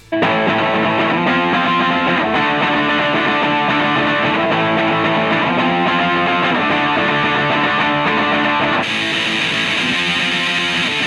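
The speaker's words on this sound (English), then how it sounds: "So first I'll show you my tone with the Tube Screamer pedal." Electric guitar through a Tube Screamer overdrive pedal, with warm, crunchy tone playing sustained chords and riffs, loud and close, with no voices.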